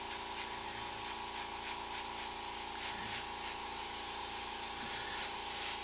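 An airbrush sprays Createx paint in a continuous, even hiss of fine spray that holds steady and fairly loud throughout, with no one speaking.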